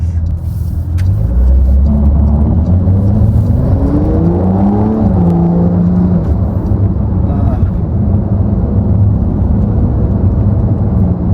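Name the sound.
car engine accelerating while driving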